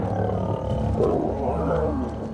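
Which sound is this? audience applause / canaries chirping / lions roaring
lions roaring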